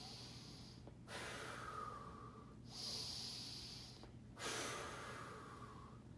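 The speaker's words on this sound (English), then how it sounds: "from here, you can add deep belly breathing" Deep belly breathing during an ab curl-up exercise: three slow, close, airy breaths, each a long hissing inhale or exhale separated by short pauses, soft and alone without speech.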